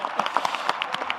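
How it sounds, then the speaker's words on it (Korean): A brief smattering of audience claps for the president, a sparse, uneven handful of distinct hand claps heard up close. "우리 대통령님 위해서 한번 박수 한번 쳐드리겠습니다."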